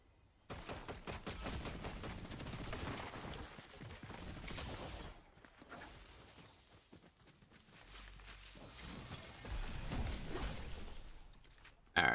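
Drum gun fire in Fortnite: dense, rapid bursts of automatic shots crackling in several stretches, interspersed with footsteps and mechanical clicks, moderately loud with gaps between volleys.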